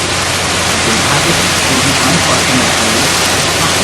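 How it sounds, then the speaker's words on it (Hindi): A dense, steady roar of heavy rain driven by strong wind, a thick continuous wash of noise with no breaks, loud and close throughout. "suddenly a strong wind began to blow and along with the rain, very large hailstones began to fall"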